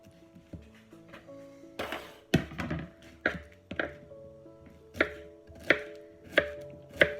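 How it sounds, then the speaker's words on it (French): A knife chops pineapple into small cubes on a board, giving a run of sharp, close thunks at an uneven, steady pace, with a few louder strikes. A faint tonal hum sits underneath, and nobody speaks. "Je le découpe maintenant en petits cubes."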